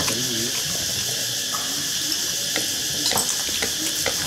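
Small fish sizzle and fry in a pan, a steady hiss with faint crackles and occasional pops in a home kitchen, under light background voices.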